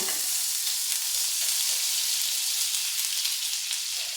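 Butter melting in a hot pan for loaded fries gives a steady, loud frying sizzle that hisses on without a break and with no voices over it.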